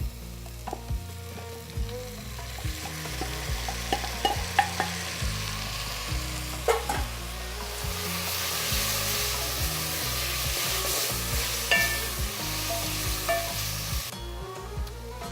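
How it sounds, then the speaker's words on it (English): Tomatoes cooking down in a pan with softened onions and green chillies give a steady hiss and sizzle, broken by repeated scraping and knocking of a spoon stirring the mix, close up and without talk. "cook the tomatoes down for 3 or 4 minutes"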